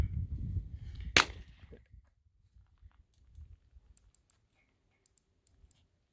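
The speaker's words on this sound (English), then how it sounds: "It's surprising the muzzle blast off the old 30-30." A single sharp gunshot from a Thompson Center Contender G2 rifle chambered in 30-30, outdoors at a range, one crack followed by quiet, with faint clicks afterward.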